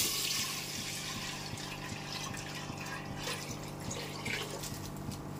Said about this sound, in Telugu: దీంట్లో రైస్ సరిపడంగా వాటర్ వేసుకోండి.